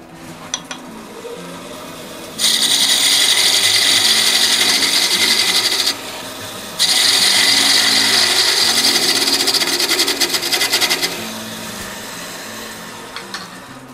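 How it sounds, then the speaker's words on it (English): An olive wood dowel being shaved down with a chisel on a spinning lathe, a loud, steady whirring grind in two long bursts separated by a short pause, with quieter motor hum before and after. "I'm going to have to shave this dowel almost in half. And I'm going to do that with a chisel"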